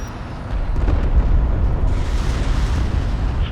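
A strike craft is destroyed in Homeworld: Deserts of Kharak, giving a loud, rumbling blast that swells and then rolls on as a sustained low roar.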